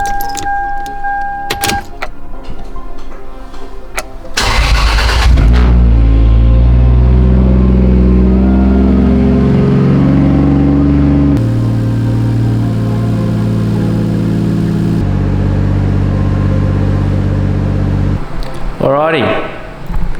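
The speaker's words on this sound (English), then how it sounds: "I'll turn the car on, see if it goes" A Toyota Chaser engine is started after a coolant repair: a few clicks, then a cranking burst and the engine catching into a steady idle with shifting tones, close and loud, before a brief voice near the end.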